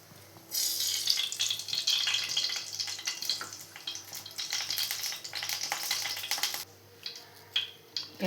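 Oil heating in a kadai for garlic tomato thokku gives a crackly sizzle with irregular spits and pops, moderately loud, then eases off near the end.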